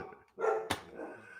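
Dogs bark in a couple of sharp, fairly close outbursts, a brief bark followed by a louder yelp, with quieter whimpering noises in between.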